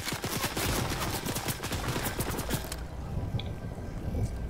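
Rapid gunfire in a Fortnite match crackles in dense bursts of sharp repeated shots, loud and close for nearly three seconds, then thins to sparse, quieter pops.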